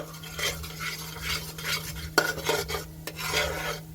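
Coconut barfi mixture is stirred steadily in a pan over a low flame: repeated close scraping strokes of a spoon against the pan, with a soft sizzle and a steady low hum beneath.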